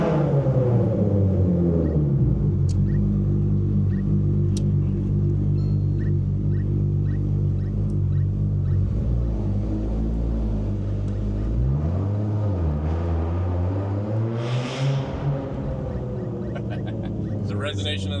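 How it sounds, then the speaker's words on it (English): A Nissan R32 fitted with a 2.8L engine drones with a deep, steady exhaust resonance, loud and close, its pitch dipping briefly partway through before settling back into the sustained hum. "The resonation of that exhaust."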